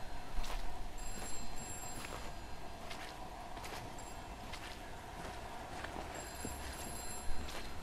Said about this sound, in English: I hear a phone call again.